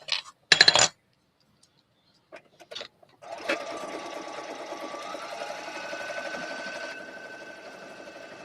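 Sewing machine stitching in a rapid steady run for about five seconds, preceded by a few short clicks and handling knocks, with no talk over it.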